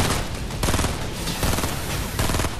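Rapid, continuous minigun fire in the Fortnite video game, a loud dense rattle of shots running the whole time with slight surges in intensity.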